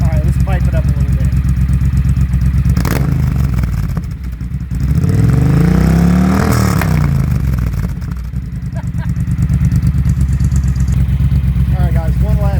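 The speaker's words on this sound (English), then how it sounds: "one last listen to that awesome sounding British Customs exhaust" Triumph Bonneville T120 motorcycle with a British Customs exhaust, revving hard and steadily loud throughout, with deep rising and falling engine swells around the middle before settling back to a strong, even roar.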